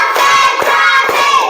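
Children in a classroom clap hands together in a counting clap game used as an ice-breaker, giving a couple of sharp, close claps over a steady murmur of room noise and the crowd.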